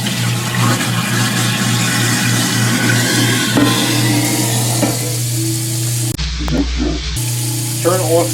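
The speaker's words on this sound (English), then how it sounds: "And now I just wash the pot." A pot being washed in a kitchen sink under running water, with a steady rush and splash of the tap, some scraping and clatter, a brief pause, and a disposal hum beneath.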